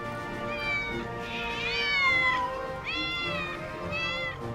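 Several house cats meow in loud, overlapping, drawn-out calls that rise and fall, filling a home crowded with roaming felines; no one speaks.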